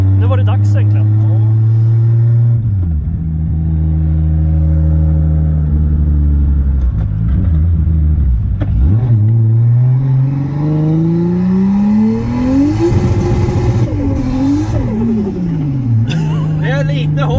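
A 450 whp 2JZ-engined Toyota Aristo with straight pipes, driven on the street: a loud, deep droning exhaust heard from inside, revs swelling and dropping repeatedly, with voices talking over it.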